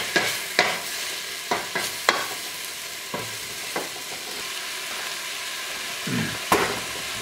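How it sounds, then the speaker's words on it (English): Mushrooms frying over turned-up heat in a pan, with steady sizzle beneath repeated sharp clacks and scrapes of stirring, close and fairly quiet, no talking. "Cook these mushrooms down."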